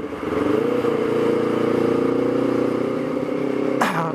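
A motorcycle, a Baby RR 19, holds a loud, steady revving engine drone, then cuts off abruptly with a brief clatter near the end.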